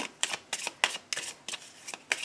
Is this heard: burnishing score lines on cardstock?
no